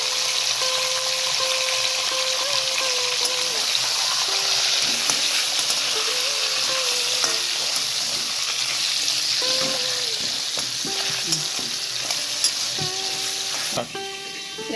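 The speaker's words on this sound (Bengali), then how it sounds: "এবার আমি মাছের মাথাগুলো ভেজে নেব।" Fish heads frying in oil for a Bengali muri ghonto, a steady dense sizzle with crackles and pops continuing for the whole stretch, close and loud, with faint tonal kitchen noise underneath.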